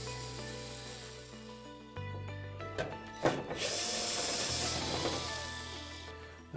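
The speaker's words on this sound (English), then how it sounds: "Remove the mounting screws." A cordless drill or driver whirs in short bursts while backing out the mounting screws that hold a baffle inside a clothes dryer drum, its steady motor tones rising and falling between brief pauses, close and fairly loud.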